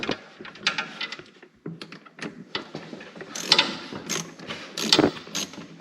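Clicks and ratcheting metallic sounds come from tightening a hose clamp on a BOV recirculating kit on a Can-Am Maverick X3, a close, irregular run of short mechanical ticks and scrapes with no talking.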